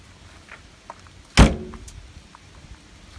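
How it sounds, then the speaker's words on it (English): Sliding door latch on a 1977 VW Type II bus transporter, one sharp metallic clack standing alone amid quiet background. "The sliding door latch works."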